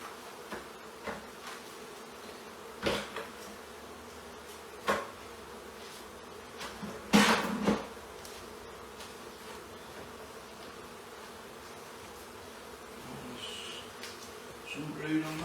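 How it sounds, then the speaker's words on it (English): Honey bees buzzing as they are shaken off a comb during removal from a chimney in Congleton, a faint steady hum broken by a few soft knocks and thumps, with no voices over it. "Comb now just wants shaking the bees off it."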